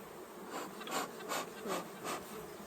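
Honey bees buzz steadily around an opened hive during a sourwood honey harvest, a dense insect hum with soft rhythmic swells about every 0.4 seconds, close and moderately quiet, with no talking.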